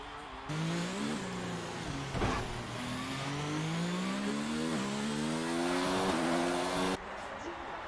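A Mercedes-Benz race car in an online Russian GP sim race revs hard, its engine note climbing and dropping through gear changes. It is loud and continuous, with a commentator's voice running underneath.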